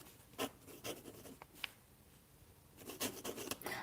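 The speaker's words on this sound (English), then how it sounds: "I love the sound of the pen as well" A pen scratches across paper in short bursts of strokes with brief pauses between them, close and quiet, with no talking.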